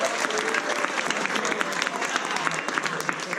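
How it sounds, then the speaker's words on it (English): A crowd claps steadily and loudly, sustained applause filling the whole stretch with dense, even patter. "Give us a big round of applause."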